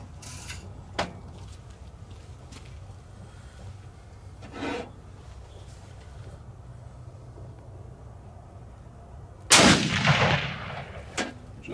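A Ruger Precision Rifle fires a single loud, sharp shot at a 200-yard accuracy test, preceded by quieter bolt and handling clicks and followed by a decaying echo.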